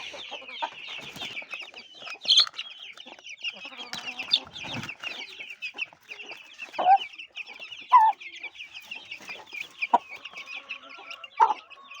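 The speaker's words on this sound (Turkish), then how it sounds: "Arap tavuğumuzu da yemleyelim." Arabian chickens cluck and chatter continuously up close while being fed, a flock's steady murmur punctuated by louder individual squawks and clucks.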